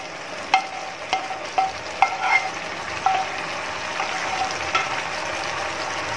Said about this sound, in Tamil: இதையும் நல்லா கலக்கி விட்டுடலாம். ஸோ இந்த முட்டைகளோட இந்த கிரேவி வந்து நல்லா கலங்கணும்